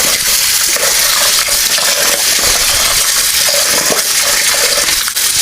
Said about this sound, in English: So what I do with the rice is I wash it with hot water and salt until the water runs clear.